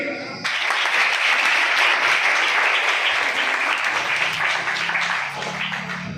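Loud applause rises sharply from an audience at an opening event after a recited verse, then carries on as a dense, steady wash of clapping that softens a little toward the end.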